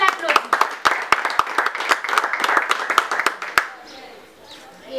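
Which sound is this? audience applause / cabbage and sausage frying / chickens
audience applause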